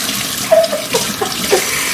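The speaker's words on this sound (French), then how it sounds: "je vais aller laver mes mains" A tap runs while hands are washed at a sink, a steady close wash of water with small splashes and shifts in the flow over two seconds, no voices.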